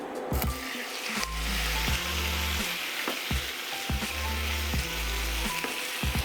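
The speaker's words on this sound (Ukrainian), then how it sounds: "Сюди ж на пательню знову додаю олії і вкидаю м'ясо." Meat tossed into hot oil in a frying pan for Carpathian chanakhi roast, a loud close crackling sizzle repeatedly broken by rhythmic clanks and shakes of the pan, with no talk.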